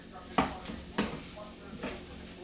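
Hamburger meat for homemade chili sizzles softly in a pot, with a few sharp scraping stirs of a utensil over a quiet, steady frying hiss.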